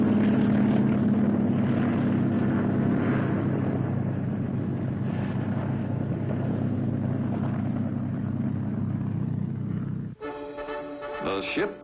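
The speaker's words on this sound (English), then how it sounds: "Some will go by helicopter instead of landing craft." Military helicopter ferrying Marines ashore in a 1960s amphibious landing, a loud steady rotor-and-engine drone with chopping texture that holds for about ten seconds before cutting to a different scene near the end.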